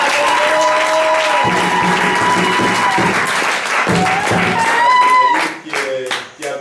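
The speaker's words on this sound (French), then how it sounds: "Acclamons le Seigneur." A church congregation applauding in acclaim, loud sustained clapping from a crowd mixed with singing voices and cheering, the applause thinning out toward the end.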